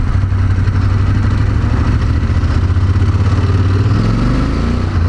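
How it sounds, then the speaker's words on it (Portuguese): Ducati Monster 1200 S two-cylinder motorcycle engine running steadily, a loud, close, continuous low rumble with a slight rise in pitch toward the end as the throttle opens. "Nossa, que motor forte que essa moto tem"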